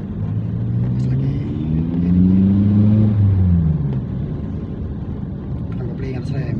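A Toyota Calya with a manual gearbox on a driving lesson accelerates, its engine note climbing loudly and steadily, then settling into a steady drone.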